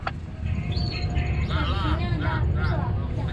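A weakened magpie robin (murai) gives a few short whistled calls and chirps close by, over a low background hum.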